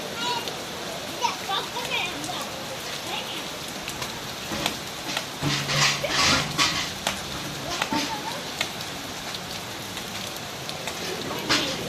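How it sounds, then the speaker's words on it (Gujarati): Steady rain patters and hisses on surfaces, a continuous wash of drops, while people talk quietly underneath. "વરસાદ આવ્યો"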